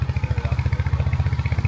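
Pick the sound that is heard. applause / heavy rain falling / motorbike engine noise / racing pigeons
motorbike engine noise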